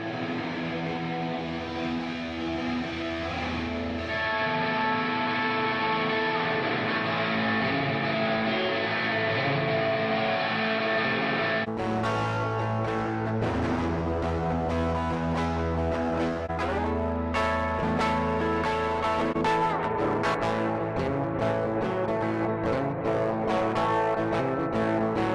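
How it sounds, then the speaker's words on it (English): Guitar played through a Native Instruments Guitar Rig REFLEKTOR reverb, sustained chords blooming into a long, lush wash of tail; partway through a brighter, busier strummed passage enters, all soaked in dense ambience. "So we're just listening to the reverb sound here."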